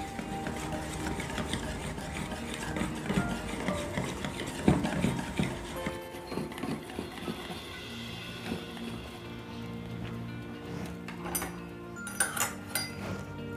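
Beaten egg being mixed into a batter for egg chips, heard as close, repeated clinking and scraping of a utensil against a bowl in an irregular stirring rhythm, with no talking.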